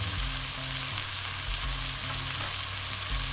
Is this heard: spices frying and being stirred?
yes